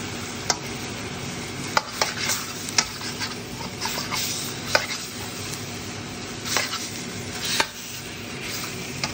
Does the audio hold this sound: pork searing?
yes